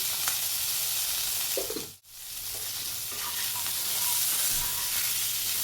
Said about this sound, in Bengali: একটু ভাজা ভাজা করে নেবো যাতে কাঁচা গন্ধটা চলে যায়